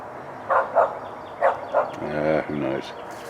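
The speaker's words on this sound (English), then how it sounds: "what's the dog barking at?" A dog barks several times in short sharp bursts at close range, followed by a drawn-out whining yelp, in an outdoor yard where spring chicks are kept.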